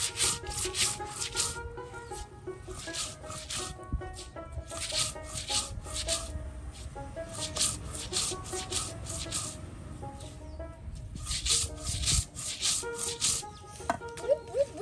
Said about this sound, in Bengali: প্রায় সবগুলো ধানই কিন্তু পাটায় ফেসে দেওয়া হচ্ছে